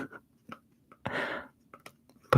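A cardboard toilet paper roll is handled close up, giving sparse dry taps and a brief papery rustle, then a crisp tap at the end, with no talking.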